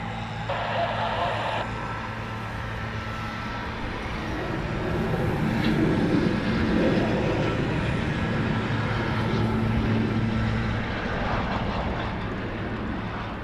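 A Eurofighter Typhoon jet landing at RAF Coningsby roars as a broad, rumbling engine wash that swells in the middle and then eases, heard from a distance with a steady low drone.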